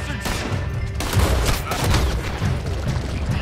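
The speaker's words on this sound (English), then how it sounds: "Dude, the shotgun is brutal." Shotgun fire in Red Dead Redemption 2, loud close blasts over a dense, rumbling bed of gunfire and booms, several sharp reports spread across a few seconds.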